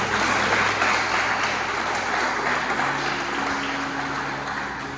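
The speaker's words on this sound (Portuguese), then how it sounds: "Você pode dar uma salva de palmas ao Senhor?" A church congregation at a Portuguese-language service gives sustained applause, a dense even roar of many hands that holds steady and slowly fades toward the end.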